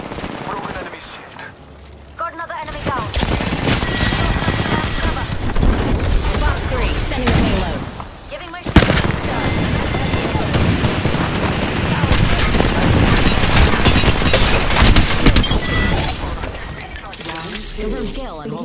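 Dense, loud gunfire from the Apex Legends battle royale, with rapid automatic bursts and heavy booms running almost continuously for most of the stretch, broken by brief lulls.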